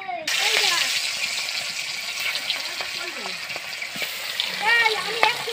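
Fish frying in oil in a kadai, a loud continuous crackling sizzle with occasional spatters and pops, close up and steady throughout.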